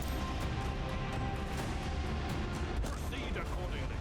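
A torpedo detonation in the Warhammer 40K: Rogue Trader video game, a loud, dense rumbling blast that fills the whole stretch with a steady roar, with a sharper crack near the end.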